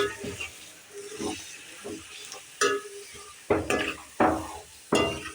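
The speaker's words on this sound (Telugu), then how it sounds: "మంచిగా ఫ్రై అయితే అయిపోతుంది చూడండి మంచిగా కలుపుకోవాలి" Chicken pieces sizzle in a hot pan for a hotel-style chicken gravy curry while a utensil stirs and scrapes them in repeated strokes, close and fairly loud.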